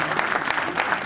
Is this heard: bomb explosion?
no